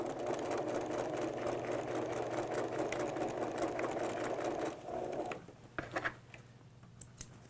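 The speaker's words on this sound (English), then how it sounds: "And I will backstitch that." A sewing machine runs steadily while backstitching the seam of a skirt waistband, a continuous close motor whir that stops partway through, followed by a few faint clicks and handling sounds.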